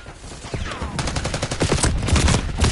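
Dense gunfire rattles in Call of Duty Black Ops 6 multiplayer on the Babylon map: loud, rapid overlapping bursts and single shots that build into a continuous fusillade, with no talking.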